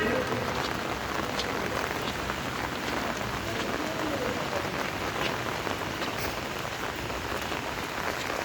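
Rain falls steadily on surfaces outside a mosque after Friday prayers, a soft, even hiss with scattered drop patter that continues unbroken and fairly quiet throughout.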